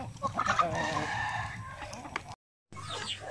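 Chickens kept separated on a farm cluck while a rooster crows, moderately close, with a short gap of silence near the end before the birds resume.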